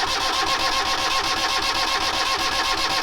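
A sailboat's marine engine cranks at full throttle with a fast, steady, rhythmic churning of the starter, held at an even level without catching, with no talk.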